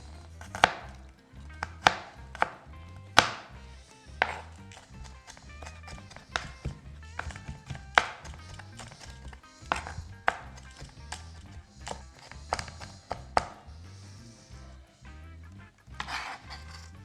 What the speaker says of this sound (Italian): Facciamo la stessa cosa con lo spicchio d'aglio. Andiamo a tritare finemente.